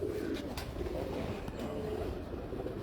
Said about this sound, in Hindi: अब ये सिंपल से कबूतर है